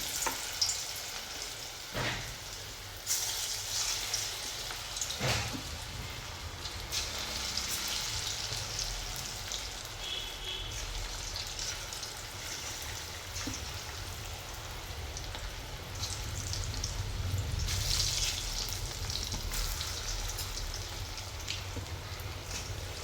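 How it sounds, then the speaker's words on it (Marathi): Small moong dal pakoras frying in hot oil, a continuous crackling sizzle like rain on a surface, with occasional louder pops and scrapes as the fritters are added, steady throughout with no talk. "आता आपण छोटे छोटे पकोडे टाकून घ्यायचे आहे"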